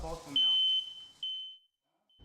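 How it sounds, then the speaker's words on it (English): Photoelectric smoke alarm going off during a house fire test, a shrill high electronic tone sounding in two loud sustained bursts right after speech, then fading to silence. "After 35 minutes, the photoelectric alarm goes off too."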